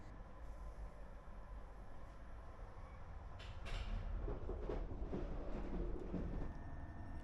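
Steady rumble and rattle of a double-decker express train running between Kaunas and Vilnius in Lithuania, heard from inside a carriage, with a continuous low roar that swells louder partway through and brief creaks and clatters.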